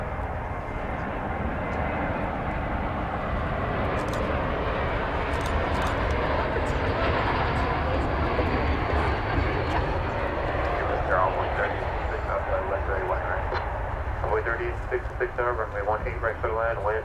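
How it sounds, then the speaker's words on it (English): An American Airlines Airbus A321neo jet arrives at DFW Airport, its broad engine roar rumbling loud and continuous outdoors, under overlapping talk and air traffic radio chatter. "That's a Neo. It's an Airbus A321."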